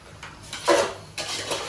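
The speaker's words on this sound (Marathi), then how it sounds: "व्यवस्थित मिक्स करून घेऊया." A spoon stirs a Kolhapuri spicy curry in a metal pot, giving a few close scraping and clanking strokes with no talk.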